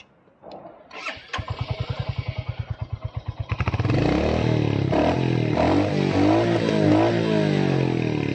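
A motorcycle engine, a Jawa 42 FJ or Royal Enfield Hunter 350 roadster, cranks with a rapid even chugging for a few seconds, then catches and settles into a loud steady idle close to the microphone, with no talk.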